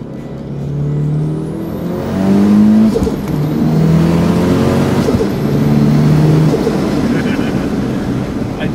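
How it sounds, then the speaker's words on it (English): A car fitted with an HX35 turbo and blow-off valve accelerates under load on a test drive, engine droning loudly with rising pitch and turbo whoosh, heard from inside over road noise. "the turbo on the blow-off valve right there"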